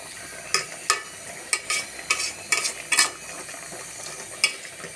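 Meat is stir-fried in a pot during Bengali koshano, with a hot sizzle throughout and a spatula scraping and clanking against the metal in irregular strokes, close and loud with no talking.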